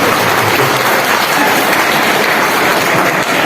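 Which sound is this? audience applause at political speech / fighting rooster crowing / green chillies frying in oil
audience applause at political speech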